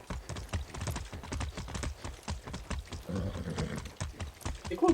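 Rapid, rhythmic video game hoofbeats of a galloping horse in Far Cry 6 clatter steadily and close, with a brief burst of other noise near the end.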